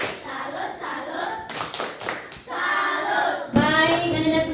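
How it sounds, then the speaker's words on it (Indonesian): A classroom audience of children claps a rhythmic salute in short bursts, with voices chanting along and growing louder toward the end. "Ayo tepuk salut dulu buat Paris."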